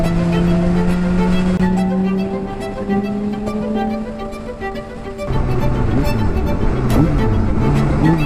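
A motorcycle fitted with a Yoshimura exhaust drones steadily while riding at night through a tunnel, its note shifting pitch as it echoes, loud and continuous throughout.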